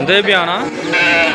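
A sheep bleats loudly and close by at the Allagadda sheep market, two wavering cries in quick succession, with a voice speaking alongside.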